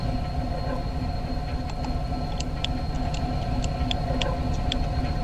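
A train runs steadily along the rails with a continuous low rumble and a faint rhythmic ticking of wheels over joints, heard from inside or close by, with no talk.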